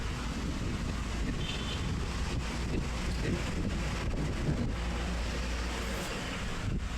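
Wind blows steadily near a river, a constant rushing roar buffeting the microphone throughout, broad and loud with no voices.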